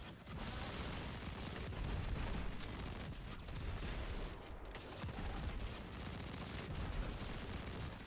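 Sustained light machine gun fire in a shooter video game, a dense unbroken roar of rapid shots and impacts that stays loud and constant throughout.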